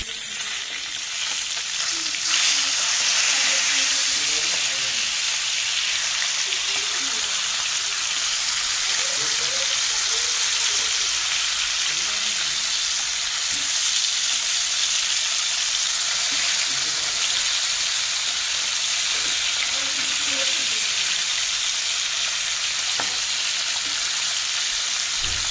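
Fish pieces fry in hot oil in a pan, a loud, close, continuous hissing sizzle that runs unbroken throughout, with faint speech underneath at times.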